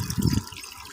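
Water from a pipe trickles over a natural rock waterfall in a home aquarium, a brief close splash that swells then fades.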